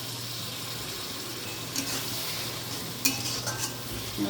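A banana flower curry sizzles in a pan after a little water is added, a steady hiss broken by a few scraping stirs, close and moderately loud.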